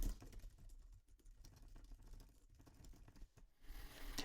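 Computer keyboard typing in a Google Forms answer box, a steady run of quiet, close key clicks with uneven rhythm and brief pauses, no voices.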